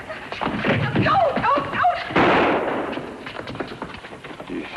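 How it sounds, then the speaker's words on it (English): A gunshot sound effect in a radio drama bursts out sharply as a single loud crack with a short ringing tail, preceded by agitated voices and followed by fading room noise. "I heard a shot."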